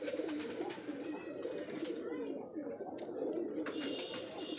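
Giribaj pigeons at a large Rajshahi loft coo softly in overlapping throaty murmurs, a steady low burble with faint background voices.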